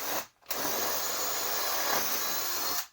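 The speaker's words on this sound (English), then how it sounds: "I'm going to use a drill to drill a couple holes to get my saw started." Power drill boring holes through a travel trailer wall to start a reciprocating saw cut, a loud steady whine running nearly three seconds after a brief pause, close and alone.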